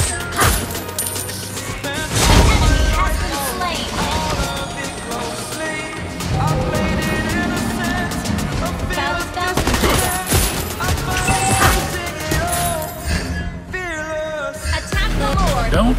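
Rapid gunfire from the marksman hero Clint in the Mobile Legends mobile game, bursts of shots mixed with game effects, music and voice lines, loud and dense throughout.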